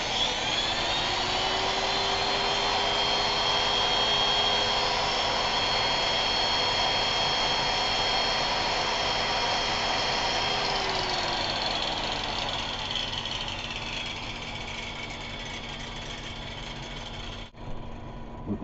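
A heat gun and an angle grinder run together off a Growatt 3000 watt all-in-one inverter, giving a loud, steady whine and broadband roar. The grinder's pitch sags near the end, then a brief clunk, with no talking.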